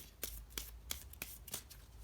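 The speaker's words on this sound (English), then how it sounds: "Okay, you're going to shuffle them up." Playing cards are riffle-shuffled in quick bursts, about five crisp ruffles in a row, close and clear.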